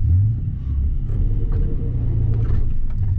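A vehicle engine being driven, a loud, close, continuous low rumble that holds steady throughout with faint rattles above it.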